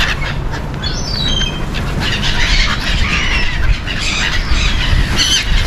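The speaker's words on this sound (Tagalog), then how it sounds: "Nakakatawa naman itong mga ibon na to." Birds squawking and calling in a noisy chorus, with sharp high cries rising over a steady low rumble throughout.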